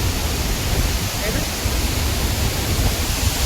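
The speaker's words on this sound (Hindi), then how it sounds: "ये सब झरना है" Tirathgarh waterfall roars with a loud, steady broadband rush of water, close and continuous, with voices mixed in.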